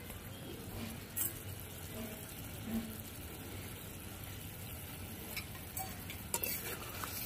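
A pomfret fish curry with ground coriander leaves is stirred in a pan, giving a faint, steady low sizzle with soft scraping knocks from the spoon.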